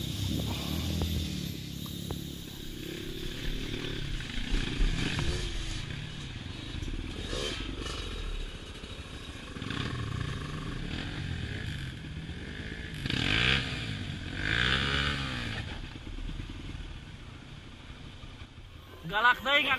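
Trail motorcycles on a muddy forest path at Cihalimun ride nearby, engines droning and revving as bikes pass, with rising and falling whines under voices talking.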